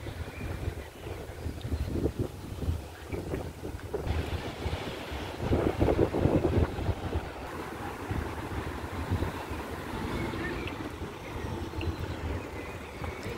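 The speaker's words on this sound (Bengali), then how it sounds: "আর এই যে দেখুন কি পরিমাণে বাতাস" Strong wind gusts outdoors on a cold summer day in Germany among trees, buffeting the microphone in a continuous roar that swells and eases.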